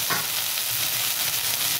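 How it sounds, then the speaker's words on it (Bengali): Neem leaves crackle and sizzle as they drop into hot oil with fried brinjal, a dense, continuous frying hiss close by, steady throughout, with no voices. "তো আমি এখন এর মধ্যে নিম পাতাগুলো দিয়ে দেবো"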